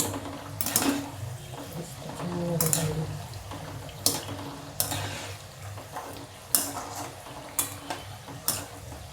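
Masala shankarpali deep-frying in oil, a soft steady bubbling with scattered clinks and scrapes of a utensil against the pan, fairly quiet and close, with no talking.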